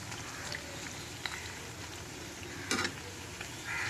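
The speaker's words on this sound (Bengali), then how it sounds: "এই দেখুন ভাজা ভাজা হয়ে এসছে" Bitter gourd leaves fry in a pan with a steady close sizzle, a few soft stirring clicks and a louder scrape of stirring near the end.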